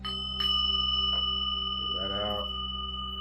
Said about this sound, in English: No reading is complete without our fairy bells.